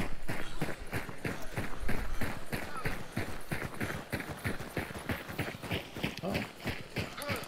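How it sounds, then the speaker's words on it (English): Several horses gallop with rapid, steady hoof clip-clops, a dense driving rhythm of thuds that stays close and loud throughout. "Oh. Horses!"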